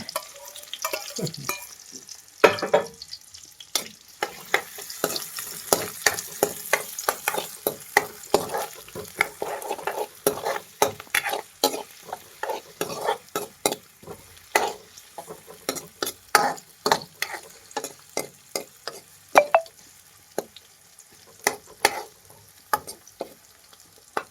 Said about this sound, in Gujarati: આ છે મસાલો એ નાખી દેવાનો આમ કંઈક તમ તમ અવાજ આવે